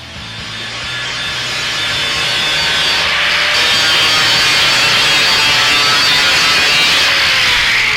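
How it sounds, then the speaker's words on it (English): An angle grinder works steel on a water heater being converted into a barbecue, a steady, loud, high whine that builds over the first second and then holds unbroken close by. "we're going to grind around here so we can weld this on"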